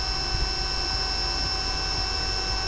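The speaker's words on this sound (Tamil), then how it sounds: "3000 ஆர்பிஎம் மேலே ஓடிட்டுருக்கு மோட்ரு." A 48/60V 1000W BLDC e-bike motor spins at high rpm, a steady close electric whine with a low mechanical hum underneath, running continuously with no voices.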